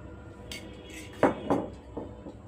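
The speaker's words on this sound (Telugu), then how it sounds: "మనం వేసుకున్న మసాలాలన్నీ బాగా కలుపుకోవాలి" A spoon clinks against a metal bowl while garam masala is mixed into raw chicken pieces for chicken pakoda, a few close, sharp scraping knocks at an uneven pace with no talk.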